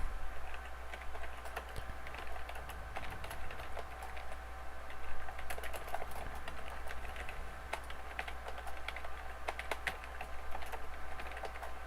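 Steady typing on a computer keyboard, with rapid, uneven key clicks running continuously at close range over a low background hum, with no voices.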